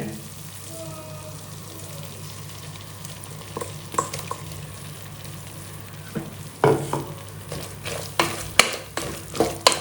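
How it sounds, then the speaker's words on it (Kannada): Vegetables and masala for a South Indian vegetable pulao fry in oil in a pan, giving a steady close sizzle with irregular scraping stirs that grow louder and more frequent toward the end, with no talk. "ಚೆನ್ನಾಗಿ ಫ್ರೈ ಮಾಡ್ಕೊಳ್ಳಿ ಮಸಾಲೆ ಹಾಕಿದ ನಂತರ"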